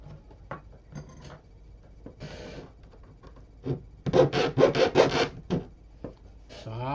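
Scattered scrapes and knocks, then a quick run of five rhythmic back-and-forth strokes like a hand saw rasping through wood, close and moderately loud.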